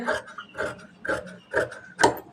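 Scissors snip through fabric while a sleeve is cut out, five crisp close-up cuts landing about half a second apart in a steady rhythm, with no talking.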